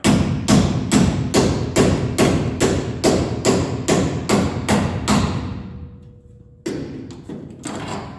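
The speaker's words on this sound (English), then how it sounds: "And then it's just a matter of gently tapping this down." Hammer tapping a sheet metal patch down on a 1967 GTO, a rapid, even series of a dozen solid metallic taps up close, a short pause, then a few more blows.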